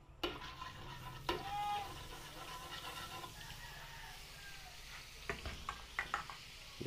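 Margarine melts and sizzles softly in hot cooking oil in a pot for beef kaldereta, a faint steady frying hiss broken by a few utensil clinks and scrapes.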